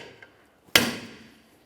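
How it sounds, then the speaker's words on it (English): A single sharp metallic hammer strike on a punch, driving a part through during serpentine belt work on a 2012-2015 Honda Civic 1.8L I4, with a short ringing decay and a faint tap just before it. "we'll continue on with a hammer and punch, driving that through as far as possible"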